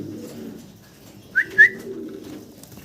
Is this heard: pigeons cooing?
yes